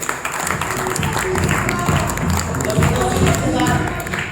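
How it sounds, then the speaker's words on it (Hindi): Audience at a network marketing gathering clapping, steady dense applause throughout with voices mixed into the crowd noise. "एक बार तालियां निकली"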